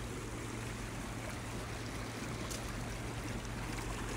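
A creek flows steadily along a canyon trail near Elsmere Canyon Falls, a constant broadband rush of water with a low hum underneath, even and unbroken throughout, with no talking.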